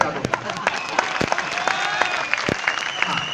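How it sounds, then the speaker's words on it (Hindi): A crowd claps as a tribute at a public gathering in Bhopal, producing a dense, steady applause with sharp individual claps on top and a busy background of voices. "एक बार जोरदार तालियां श्रद्धांजलि स्वरूप बजा दो।"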